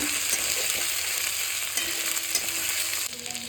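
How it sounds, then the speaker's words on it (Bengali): Garlic and ginger paste frying in a pan, a loud continuous close sizzle with faint stirring scrapes and a brief tonal hum, no talking. "রসুন আদা বাটা দিয়ে ভালো করে একটু কষাবো"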